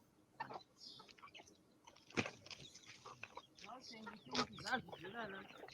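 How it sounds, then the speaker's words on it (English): Chickens cluck and squabble while a rooster calls among them, with sharp bursts and busy mid-range chatter close by as the flock competes for biscuits; a person speaks over the birds. "Oh, that's a rooster, of course."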